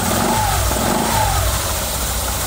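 An automatic scooter engine revs steadily while its rear wheel stays still, giving a continuous, fairly loud mid-pitched motor drone with a slight rise and fall in revs throughout.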